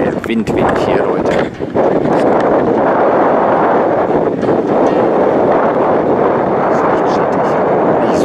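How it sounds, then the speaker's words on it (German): Strong wind buffets the microphone in a steady, loud roar for the whole stretch, with a brief dip near the start, out on a walk near the Brocken railway in Schierke in the Harz. "Oh, der Wind weht hier, Leute."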